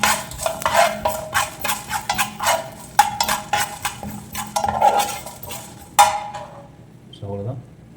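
A spoon scrapes and clinks against a pan while fish curry ingredients are stirred and fried, with steady rhythmic metallic stirring up close and a faint sizzle underneath, stopping near the end.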